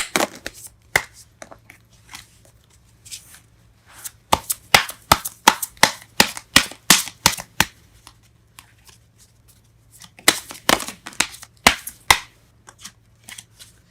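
Tarot cards being shuffled and handled in bursts of crisp riffling and slapping, with sharp snaps and quieter gaps between, close and fairly loud over a steady low hum.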